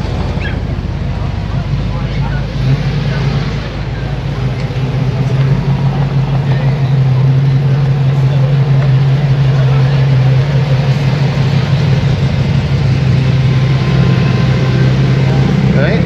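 Car engines rumble at a large outdoor car meet at Cafe Elle where a 1957 Chevy and other arriving cars pass, a steady low drone mixed with wind buffeting the microphone, continuous and fairly loud.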